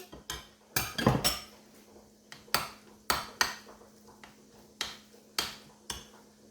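A utensil stirs a fresh salad with mustard in a bowl, sharp clinks and taps striking the bowl about once every half second, close and clear with quiet pauses between.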